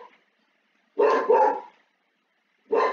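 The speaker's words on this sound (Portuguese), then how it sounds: "O cachorro tá latindo." A dog barks nearby in a quick pair of sharp barks, then goes quiet before one more bark. Nothing else is heard between the barks.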